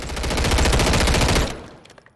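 Norinco QBZ-95B rifle in Call of Duty Modern Warfare III fires a loud, rapid sustained burst of automatic gunfire for about a second and a half, then cuts off, with a few faint clicks and echoes trailing after.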